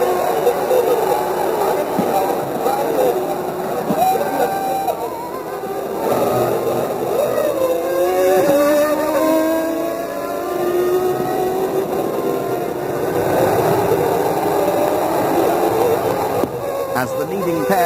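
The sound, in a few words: Formula One race cars, Berger and Schumacher's Benetton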